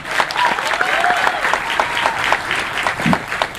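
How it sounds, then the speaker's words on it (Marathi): An audience gives a standing ovation after a film trailer, dense continuous applause from a large crowd filling the space, with faint voices and cheers mixed in throughout. "ट्रेलर संपलं तुम्ही उभं राहून टाळ्या वाजवल्यात, इतक्या जोरात टाळ्या वाजल्या"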